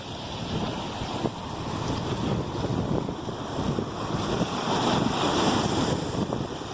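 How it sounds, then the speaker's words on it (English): Rough ocean surf crashes continuously onto the shore at Bird Island, with strong wind buffeting the microphone in a steady, loud roar and occasional sharper breaking waves. "Ocean is rough out here."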